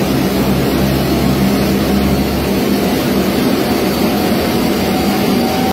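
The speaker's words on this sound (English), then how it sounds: "This plane's engine releasing a lot of smoke on startup." A loud, steady aircraft engine starting up and releasing heavy smoke roars continuously at close range, a deep low rumble with broadband noise, shifting slightly partway through.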